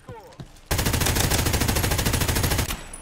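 Rapid automatic gunfire in a free-to-play first-person shooter from the Escape from Tarkov developers, a loud, dense burst lasting about two seconds after a couple of quieter clicks, close and sharp.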